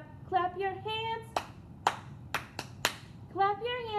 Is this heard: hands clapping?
yes